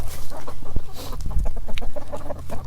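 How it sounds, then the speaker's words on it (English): Chickens cluck and murmur close by as they are let out of their coop at an off-grid homestead, a busy stream of overlapping clucks with a few sharper calls. "So I'm gonna let the chickens out again."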